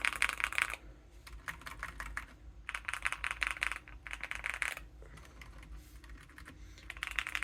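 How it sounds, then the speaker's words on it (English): Bursts of rapid clicky typing on a mechanical keyboard, close and crisp, broken by short pauses, with no voices. "let's compare it to a regular mechanical keyboard right here"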